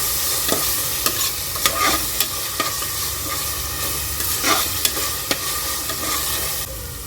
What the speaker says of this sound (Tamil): இப்போ நம்ம இஞ்சி பூண்டு ஆட் பண்ணிக்கலாம். ஒரு நிமிஷம் நல்லா வதக்கி விடுங்க.